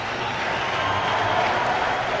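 Ice hockey arena crowd during a Rangers–Bruins game, a steady broad roar of many voices swelling slightly louder, continuous and dense throughout.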